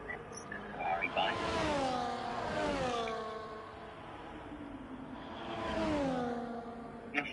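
A Ferrari race car in a racing video game roars past twice, its engine pitch sweeping down as each pass rises and fades, with commentators talking over it.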